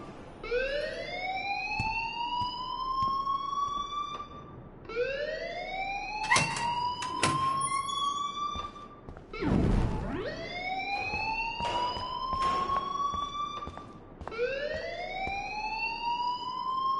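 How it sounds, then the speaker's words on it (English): An alarm in the video game Life is Strange, a loud rising electronic siren repeating in long sweeping cycles with a few sharp clunks in between. "please turn off that alarm since that's your job."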